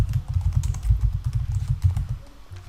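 Close, rapid typing on a computer keyboard, a dense run of soft key clacks with no pauses and no voices.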